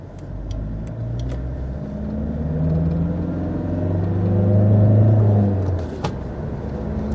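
A Fiat Multipla's engine drones and rises loudly under acceleration as it pulls away through its gears, a steady close rumble that swells and then eases.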